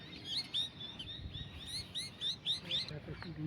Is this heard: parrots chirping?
yes